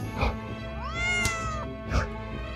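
A cat meows clearly, one drawn-out rising and falling call framed by short softer mews, close and alone.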